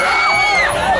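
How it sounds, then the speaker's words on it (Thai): A packed crowd at a Muay Thai boxing event roars and cheers continuously during the final round, a dense wall of shouting voices close and loud throughout. "เสียงเชียร์ใครดังครับ"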